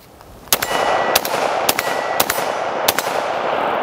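An AR-15 rifle chambered for 300 Blackout fires five sharp shots at uneven intervals outdoors, each crack followed by brief echo over steady background noise, with no talking.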